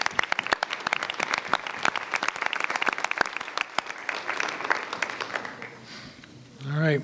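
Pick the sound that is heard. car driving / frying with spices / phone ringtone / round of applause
round of applause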